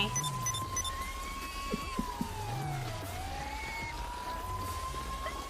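A siren wails steadily in the distance, its tone sliding slowly down and back up, with traffic rumble and faint voices underneath.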